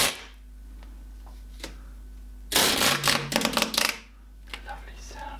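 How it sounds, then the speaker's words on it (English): A knife slices through and trims excess scrim fabric in a short burst of crisp, rasping cuts at close range, set between quieter stretches with a low hum underneath. "is a knife, because you need to trim that excess off"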